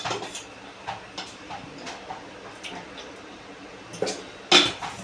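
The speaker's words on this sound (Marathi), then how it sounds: "मी कुकर लावणार आहे दोन चमचे तेल टाकते आता" Metal pots and utensils clank and clink in a home kitchen as a pressure cooker is readied and spoonfuls of oil go in, with scattered sharp knocks and a louder clatter near the end.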